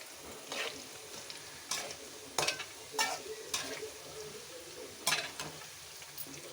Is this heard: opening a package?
no